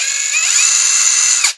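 A Prostormer 20V brushless impact wrench runs unloaded at fast speed, giving a smooth, loud, high-pitched motor whine that climbs briefly, holds steady for over a second, then stops sharply.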